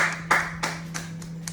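A few sharp hand claps at an uneven pace, close and fairly soft, over a steady low electrical hum in a quiet room.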